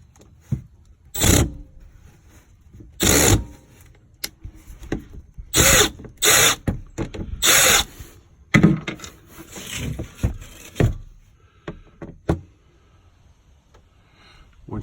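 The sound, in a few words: backing out bolts on Kawasaki Mule oil filter cover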